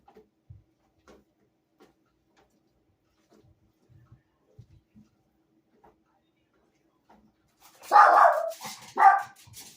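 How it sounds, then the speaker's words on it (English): A dog barks twice outside a window, a short burst near the end after long near-silence broken only by faint ticks and small household knocks. "Dog is going by my window."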